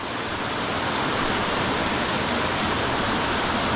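Waterfall on a small Appalachian brook trout stream, a loud, dense, unbroken rush of falling water close by with no other sounds.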